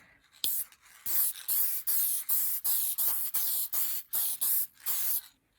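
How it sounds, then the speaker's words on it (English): Workable fixative hisses from an aerosol spray can in about ten short, even bursts separated by brief pauses, close and loud, with no talking. "So the workable fixative, and normally you would spray this outside"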